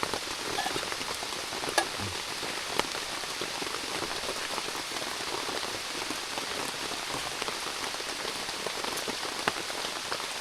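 Heavy overnight rain pours steadily onto a bamboo hut, a dense continuous hiss with occasional louder drips, close and unbroken throughout.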